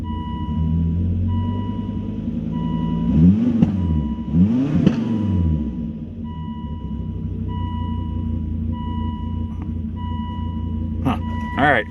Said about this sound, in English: we'll just do another fire up, warm up cycle